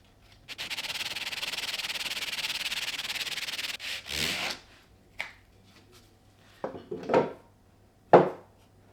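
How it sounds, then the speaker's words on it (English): Sandpaper rubbed on a workbench project: a steady, close rasping stretch of a few seconds, then several shorter separate scuffs and knocks. "Maybe if we use some sandpaper."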